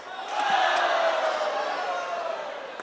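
A huge arena crowd at the 2017 T2 APAC Grand Finals cheers in a sustained, swelling roar that peaks early and stays loud, distant voices blending into one wash.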